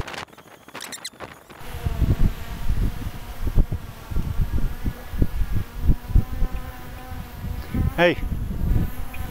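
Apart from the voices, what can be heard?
DJI Mavic Air 2 drone flying and buzzing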